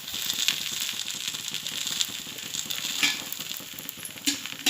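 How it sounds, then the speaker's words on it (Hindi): A besan-stuffed paratha sizzles steadily on a hot, oiled tawa over a gas flame, a close, continuous crackle with a few louder spits near the end. "मैंने गैस पर तवा रखी हूँ जो गर्म हो चुका है, उस पर मैंने थोड़ा तेल लगाई हूँ ताकि रोटी चिपके नहीं। अब मैं इस पर रोटी डालूँगी।"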